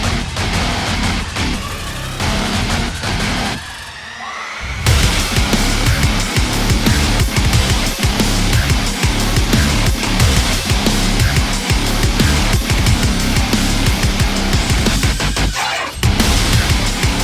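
Djent metal track: loud, dense, heavily distorted guitars and pounding low end fill the whole stretch, with brief dropouts near four and sixteen seconds.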